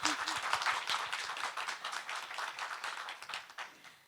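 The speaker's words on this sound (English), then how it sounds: "So please join me in the round of applause," An audience at a workshop session claps in a dense burst of applause that starts full and slowly thins, close and continuous over the short stretch.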